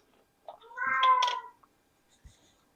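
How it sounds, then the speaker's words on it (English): A house cat lets out one loud, drawn-out meow in a quiet kitchen, close and clear, followed by a soft thump. "My cat is saying hello in a very loud way."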